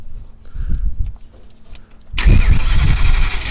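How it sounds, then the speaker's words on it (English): A truck engine cranks and catches during a pre-trip inspection, breaking a quiet stretch with a sudden loud roar that settles into a steady, rough running sound. "Fire up the truck"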